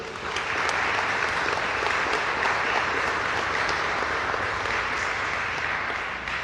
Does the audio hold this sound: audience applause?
yes